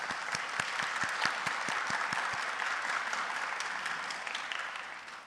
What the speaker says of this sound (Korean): 우리 먼 길에서 오신 목사님께 박수로 감사의 마음을 표현합시다.